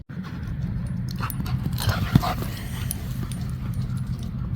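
A dog plays at an empty dog park, with scuffling movement, soft panting and a brief whimper-like yelp over steady outdoor background noise, no clear speech.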